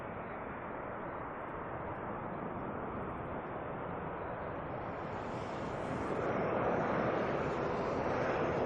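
An ATR turboprop coming in to land at Auckland Airport, a steady broad roar that swells a little louder toward the end, with some wind noise.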